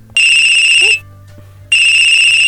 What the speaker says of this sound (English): The first thing I notice is the pretty waltz-like track she has as her ringtone